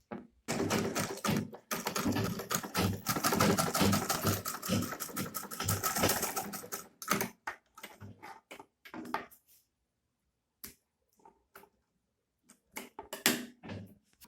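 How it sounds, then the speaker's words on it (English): A sewing machine stitches a handbag handle, running steadily for about seven seconds with a fast mechanical whir, then stops, followed by a few scattered clicks and handling sounds. "Bring it to the sewing machine and run a stitch."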